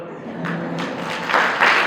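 An audience claps, the applause swelling louder toward the end while a voice talks over it.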